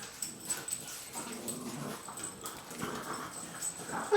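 Dogs scuffle and fight nearby in a garage during work on a 2004 Harley FLHT twin cam touring bike, with irregular growls, yelps and snarls rising and falling in quick bursts, moderately loud.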